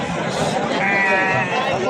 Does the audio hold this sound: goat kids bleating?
yes